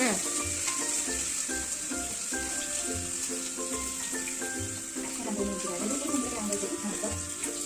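Ginger and curry leaves crackling in hot oil in a home kitchen, a dense continuous close sizzle with faint scraping stirs throughout, and a voice talking quietly over it.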